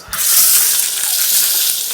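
Chopped onion dropped into hot oil already seasoned with dried chilli, bay leaf, cumin and five-spice for dal, bursting into a loud, steady, close sizzle that holds without pause.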